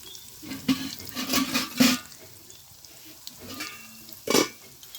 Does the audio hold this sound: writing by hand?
no